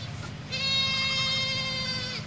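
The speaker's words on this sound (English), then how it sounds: "And the goats are not happy." A goat lets out one long, wavering bleat close by in the rain, over a low background rumble.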